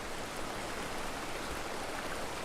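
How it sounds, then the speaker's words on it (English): A stream flows in a quiet outdoor spot, a continuous soft, even rush of water with no voices. "So the sound of the water"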